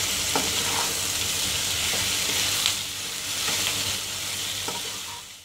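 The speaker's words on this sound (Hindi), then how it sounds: "फ्राई करते करते 3 मिनट हो चुके हैं" Chicken frying in a pan with curry leaves crackles in a loud, continuous sizzle close by, broken by a few spatula scrapes and taps as it is stirred.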